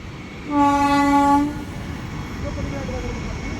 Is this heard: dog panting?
no